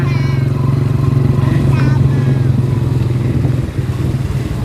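A motor vehicle, likely a motorcycle, follows close behind with a steady, loud engine drone that holds throughout, under soft voices.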